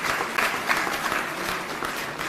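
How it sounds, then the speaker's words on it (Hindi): An audience claps in sustained, dense applause at a public event in Delhi, steady and fairly close throughout. "तो एक बार उनके लिए तालियां बजा दीजिए।"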